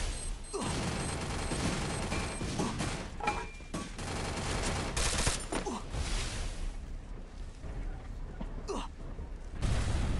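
Free Fire mobile battle sounds: dense bursts of gunfire and booming blasts, including a grenade explosion, crowd together loud and close over about ten seconds, with short pauses between volleys.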